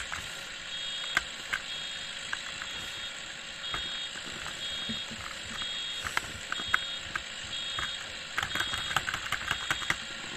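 Steady engine hum with faint, repeated electronic beeps and scattered clicks, like a heavy farm vehicle idling in a farming video game while a reversing alarm sounds intermittently.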